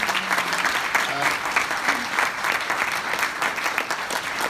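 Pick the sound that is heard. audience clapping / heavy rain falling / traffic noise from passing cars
audience clapping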